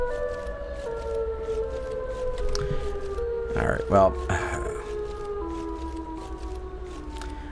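Sirenhead's siren wails in an itch.io horror game, a steady droning tone with sliding harmonic layers that holds through the whole stretch, with a brief burst of voice over it.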